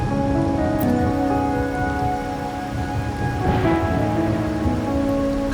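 Steady rainfall in the video game Wuthering Waves, hissing continuously, with a low rumble of thunder in the background and a sustained tonal hum beneath.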